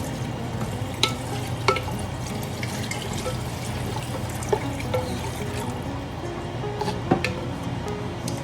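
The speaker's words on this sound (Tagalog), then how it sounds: "Lalagyan na natin po ito ng konting pangsabaw para maganda siya." Pochero cooking in a clay pot (palayok) with broth being added, giving a steady bubbling, trickling wash of liquid with occasional clinks and taps throughout, close and fairly loud, with no talking.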